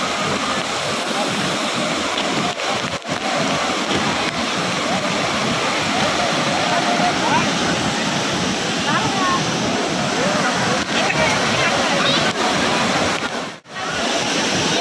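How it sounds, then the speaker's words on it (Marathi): Kuderan waterfall near Badlapur and Ambernath, heard up close as a loud, steady roar of falling water that fills the whole stretch without a break, with voices now and then. "तो कसा वाटला वॉटरफॉल?"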